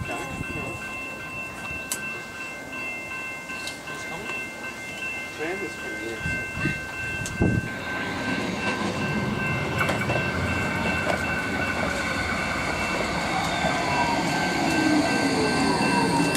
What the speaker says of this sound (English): The up tram has just crossed over the tram bridge over South Road